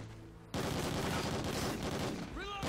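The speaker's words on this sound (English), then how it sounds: "I'm just shooting random bullets" Dense, loud automatic gunfire in a video game about fighting the infected, firing without pause in long bursts, with a brief quieter lead-in and a few higher ringing tones near the end.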